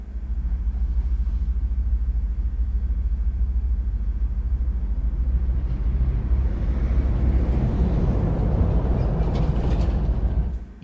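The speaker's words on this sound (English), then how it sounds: "You can hear the trains around you," Depot ambience from a London Underground tube train simulator game: steady low rumble of nearby trains with a rising mechanical whir toward the end, continuous and fairly loud without talk.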